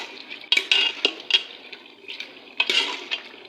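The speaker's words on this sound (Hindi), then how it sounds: "ये देखिए इस तरीके से हम प्याज़ों को मिक्स करके इसके अंदर मेल्ट कर लेंगे चमचे की मदद से" A metal spoon scrapes and knocks against a pot while onions are stirred in with browning meat, a close, irregular run of clinks and scrapes with wet sizzling between strokes.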